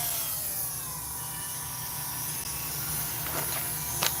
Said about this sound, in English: Let's get our Dremel going here.